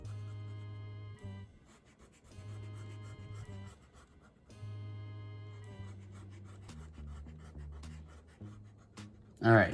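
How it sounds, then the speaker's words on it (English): Pencil lines on a perspective drawing being rubbed out with an eraser, repeated scrubbing strokes in bursts over a steady background hum, with no talking. "A lot of eraser stuff."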